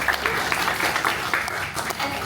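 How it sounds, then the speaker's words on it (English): Audience applause at a Toastmasters meeting, steady close clapping from a small crowd throughout, with voices mixed in underneath. "Please give a big applause to her."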